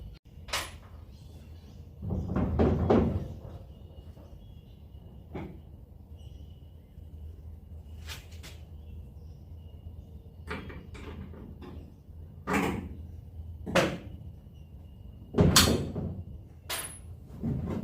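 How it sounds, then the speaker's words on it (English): A pin punch knocking out the hinge pin on a VH Holden Commodore door: a few sharp metallic hammer strikes and clanks spaced out among quiet pauses, with some shuffling and handling noise in between. "So I'm just going to use a pin punch, knock it out, and the door will come off."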